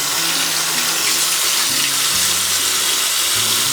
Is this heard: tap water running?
yes